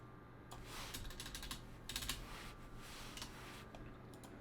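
Brisk typing on a computer keyboard, irregular bursts of soft clicky keystrokes with short pauses between them, close and fairly quiet, no voices.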